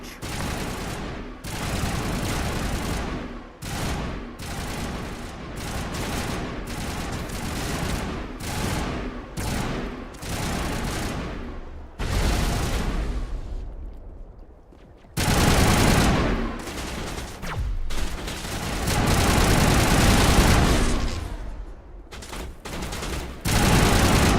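Sustained gunfire in a Mass Effect battle, with dense rapid bursts of automatic fire nearly continuous for long stretches, broken by brief pauses, loud and close.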